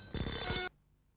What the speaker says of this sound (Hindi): ओहो, टेलीफोन कॉल, वो आपका ही है।